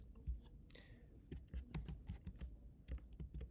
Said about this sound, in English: next thing I do is type in the actual function